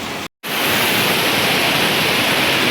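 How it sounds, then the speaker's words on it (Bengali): Steady roar of water tumbling down a waterfall in East Sikkim, a loud continuous broadband rush after a brief cut to silence near the start. "ওই ওপর থেকে জলটা পড়ছে দেখুন, এবং এখান থেকে জলটা বয়ে বেরিয়ে যাচ্ছে।"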